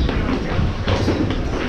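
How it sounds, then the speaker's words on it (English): A local commuter train in Japan rumbles loudly and close by, a continuous heavy rolling roar with faint rhythmic wheel clatter throughout. "This is our train."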